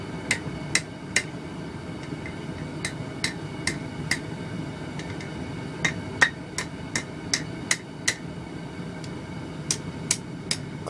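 Hammer blows on hot metal forge a barbecue fork, ringing sharply in irregular bursts with brief pauses between. The strikes are close and loud over a low background hum.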